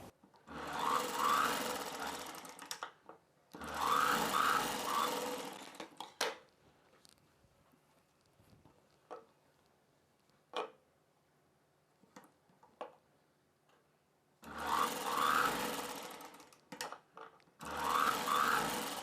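A sewing machine stitches the front and back pieces of a blouse together at the shoulders in loud bursts of rapid, even clatter, separated by quiet pauses with small clicks and fabric handling, and no talking.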